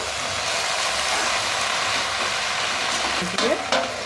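Water spinach being stirred and tossed with browned onion in a hot frying pan, a steady sizzle throughout with a couple of louder scraping turns near the end.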